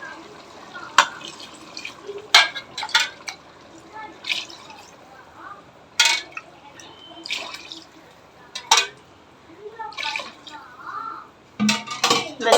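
Water poured into a pot of chicken biryani rice, with scattered sharp clinks of utensils on the pot and soft dripping, a voice talking intermittently over the kitchen sounds.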